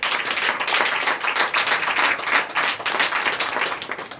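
A church congregation at a Sunday service in Benin claps in acclamation, producing dense, continuous, fast rhythmic clapping from many hands, loud and sustained throughout.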